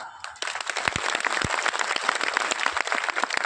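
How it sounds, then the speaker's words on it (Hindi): A festival audience breaks into applause after a brief quiet moment, lively dense clapping that stays steady and fairly close. "अगर ये तालियां बज रही है और मन में उत्साह है"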